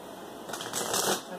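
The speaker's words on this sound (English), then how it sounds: "they only requested 3 shuffles today" Tarot cards are shuffled in a quick riffle, a soft fluttering burst rising and fading over about a second, close by.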